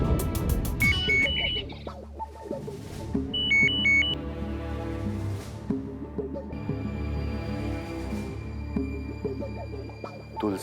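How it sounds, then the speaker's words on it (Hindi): A phone ringing during a scene in a Hindi devotional film, with short bursts of an electronic ringtone melody sounding twice over continuous background music. "तुलसी मैडम का फोन"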